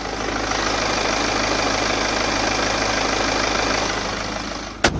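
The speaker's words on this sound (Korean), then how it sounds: "이렇게 엔진 소리 듣기 위해서 본네트까지 개방을 해봤습니다. 지금 바로 엔진 소리 한번 자세하게 들려드릴게요." Diesel engine of a 2017 BMW 5 Series idling with the hood open, a steady, even, fairly loud clatter and hum with no voices, ending in a brief sharp knock.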